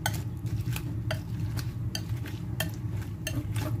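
Mixing a cabbage and tomato omelette batter seasoned with MSG in a bowl, rapid repeated clinks and scrapes of a utensil over a low background hum.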